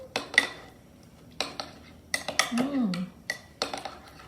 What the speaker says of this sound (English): Now we can stir it around.